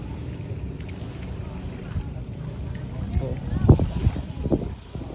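Water laps around a small wooden fishing boat (bangka) while wind buffets the microphone, and murmured voices and knocks rise near the end.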